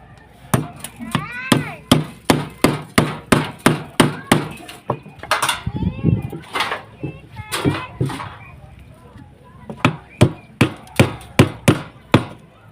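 Nails driven by hammer into a wooden beam form for concrete, being set against hollow block: a long run of sharp, evenly spaced strikes, near and loud, with a brief pause midway and voices talking faintly in between.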